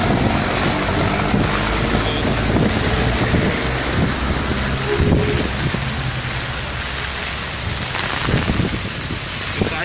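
Heavy rain pours down steadily at the Manila Bay seawall while strong wind buffets the microphone, with a constant roaring wash of water all around.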